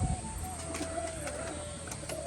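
Pigeons murmur with soft, low coos inside their coop, a continuous throaty burble close by with no voices over it.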